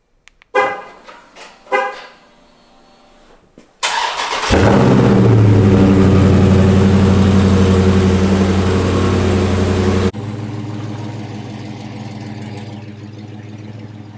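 A Dodge Charger Scat Pack Widebody's starter whirs in short bursts, then the engine catches and roars to a loud, deep, steady idle that settles slightly lower near the end.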